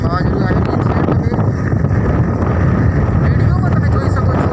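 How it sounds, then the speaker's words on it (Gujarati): Strong storm wind blows hard in Ambaji, a loud, constant roar of gusting air buffeting the microphone with no letup. "પવન છે તે ખૂબ જ મોટા પ્રમાણે ફૂંકાઈ રહ્યો છે"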